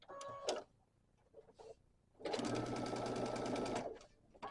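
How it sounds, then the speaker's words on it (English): A sewing machine sews a seam on a quilt block, a brief start at first, then a steady close whirring run of about a second and a half after some quiet handling. "let's get this seam sewn"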